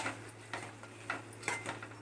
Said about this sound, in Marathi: व्यवस्थित मिक्स करून घेवते